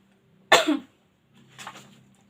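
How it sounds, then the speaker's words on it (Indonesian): A single sharp, loud cough from someone recovering from illness, followed a moment later by a softer throat-clearing cough, both close in a quiet room. "aku lagi batuk soalnya lagi baru sembuh gitu ya"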